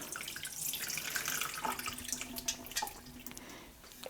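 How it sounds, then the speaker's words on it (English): Natural dye liquid poured from a pan through a strainer, a continuous splashing trickle with bright watery spatter that thins toward the end, heard alone and fairly quiet. "So I got my pan, I got my strainer, and since it's not a huge amount of liquid, I think we can just strain it off."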